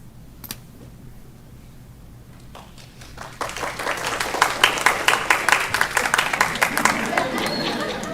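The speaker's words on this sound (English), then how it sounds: "That's applause." A small board meeting audience breaks into applause after a quiet stretch with faint murmuring. The clapping swells into loud, close, uneven claps and then carries on steadily to the end.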